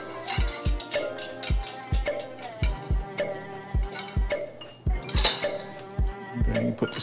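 A metal nut and pin are handled while mounting a Carro Neva smart ceiling fan, making repeated small metallic clinks and taps with deep thumps, close and irregular.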